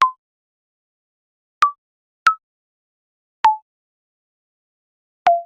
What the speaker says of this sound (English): If we put it up 4 octaves, it then sounds like this.